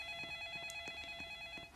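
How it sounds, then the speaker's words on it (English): A telephone rings in the horror video game It Lurks, with steady tonal ringing bands throughout and a brief louder burst near the end. It sounds moderately faint and close, with no talk over it. "the phone ring is so annoying"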